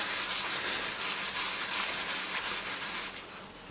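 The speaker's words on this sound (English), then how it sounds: "I'll just rub a bit on here so you can see how that comes off" Cleaner being rubbed onto an oil-stained Boxford lathe, a close, continuous breathy scrubbing with a gentle back-and-forth pulse that fades off at the end.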